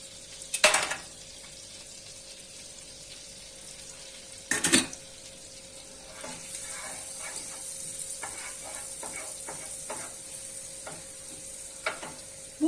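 Grated garlic sautés quietly in a pan with a soft, steady sizzle, broken by a couple of sharp utensil clanks and light stirring scrapes, faint and without talk.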